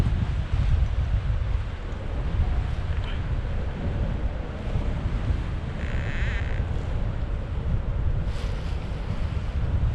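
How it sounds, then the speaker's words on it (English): Strong wind gusts buffet the microphone in freezing conditions, a loud continuous low roar that surges and eases throughout, with faint splashing water underneath and no talking. "Probably some wind shear or something right there."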